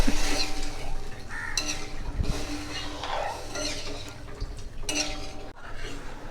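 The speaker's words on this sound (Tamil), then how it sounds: "நல்லா கலந்து விட்டுறலாம். கொதி வரட்டும்." A spoon scrapes and clinks steadily against a kadai as sugar and water are stirred together and brought to a boil, making a continuous close rattling sound with faint watery swishing and no speech over it.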